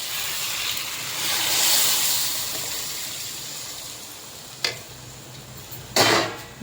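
Tamarind liquid mixed with chili powder and salt is poured into a pan for dried-fish curry, giving a broad, steady sizzling hiss that swells and fades, with two sharp brief clatters near the end.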